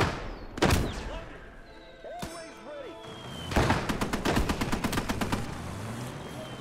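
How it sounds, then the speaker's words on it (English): Enemy machine gun fire in the WWII game Gates of Hell: scattered gunshots and thuds early, then a fast, sustained burst of rapid automatic rounds, fairly loud amid battlefield noise, with voices talking over it. "Enemy machine gun!"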